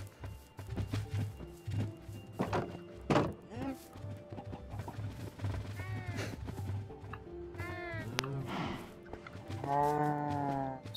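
Cattle in the Minecraft video game moo repeatedly throughout, several calls overlapping at moderate loudness over a busy background of in-game sounds, with a couple of short knocks.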